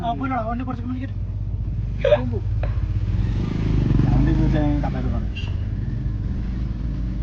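A motorbike and a car roll past on a road near a Palakkad toddy shop, engine rumble swelling to a peak midway and easing off, with voices talking over the traffic.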